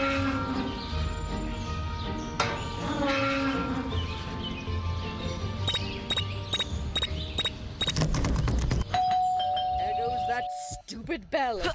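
Doorbell chimes ring out in the Scary Teacher 3D mobile game, several bright repeated dings over game music and ambient sounds, with a voice speaking briefly.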